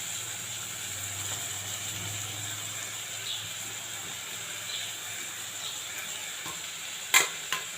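Cooked rice being stirred and mixed in a pan for fried rice, a soft, steady scraping and faint sizzle throughout, closing with a couple of sharp clicks of a utensil against the pan.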